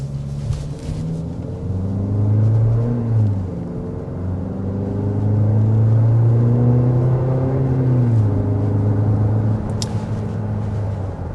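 A 2025 Nissan Murano with a CVT transmission accelerating, its engine hum rising smoothly and sustained as a low droning rumble heard from inside the cabin, steady and moderately loud without speech.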